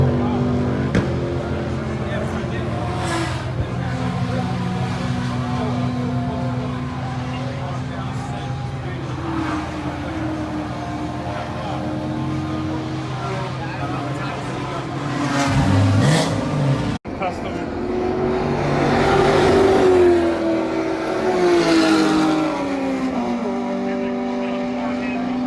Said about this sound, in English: Go figure, 300Z is the loudest car here.